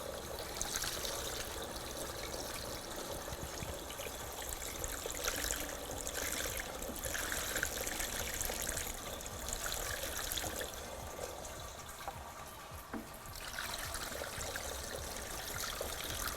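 Water from a homemade DIY fountain splashes down through drilled holes into the basin below, a steady, continuous trickling and pouring that stays fairly faint and close throughout, with no voices.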